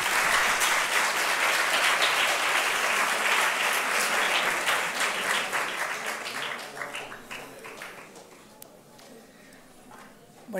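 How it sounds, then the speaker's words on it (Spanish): Lecture-hall audience applause welcoming a speaker at a mathematics conference: dense, loud clapping from a crowd that holds steady for several seconds, then thins into scattered claps and fades out near the end. "Vamos a recibirla con un aplauso, por favor."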